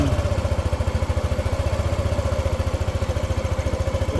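A motorcycle engine runs steadily after a jump start from a drained battery. It gives a rapid, even idle putter that is loud and close, holds a constant rhythm and has no revving. No one speaks.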